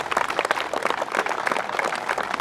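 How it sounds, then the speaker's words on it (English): Audience applause at a rail trail ceremony, a short burst of steady, moderately loud clapping from a modest crowd. "let's give a good round of applause for these heroes of our MBTA race"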